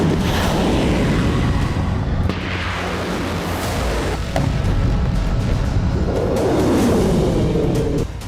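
Rocket and missile strikes around the Kurchatov nuclear power plant: a series of heavy, rumbling blasts and deep booms, loud and continuous, with reverberating rolls between impacts.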